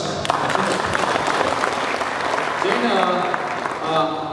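An audience at an entrepreneur seminar breaks into a loud round of applause, dense clapping mixed with cheering voices and overlapping chatter that tapers off toward the end.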